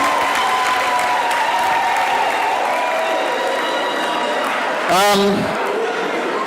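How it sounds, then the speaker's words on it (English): At an association's annual general meeting and ten-year celebration, an audience claps steadily in a sustained round of applause, with a brief louder burst near the end and a voice faintly present underneath. "Let's clap for them. Another round of applause."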